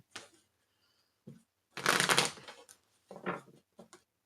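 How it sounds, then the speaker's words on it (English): Bursts of card shuffling of a thick deck of large, stiff tarot-style cards, riffles followed by short taps, close up with pauses between, no talking. "I'm going to give it a couple more shuffles."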